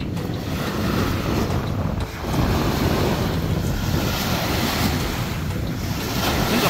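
Loud, continuous surf on Manila Bay with waves washing in and wind buffeting the microphone, a steady roar throughout with no voices.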